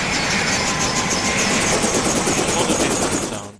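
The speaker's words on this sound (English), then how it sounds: "this is just some helicopters having landed and new taking off to take on the anti-submarine warfare duty" Helicopters land and take off for anti-submarine duty in the naval warfare game Command: Modern Naval/Air Operations, a dense, steady rotor-and-engine drone that stays loud and even before fading at the very end.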